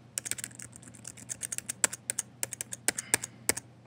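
Numbers are typed on a computer keyboard into a GPA calculator, a quick irregular run of light plastic key clicks with a few sharper taps, quiet and close with no talking.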